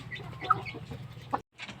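A hen clucks close by in a few short, soft, throaty bursts, alone without talk.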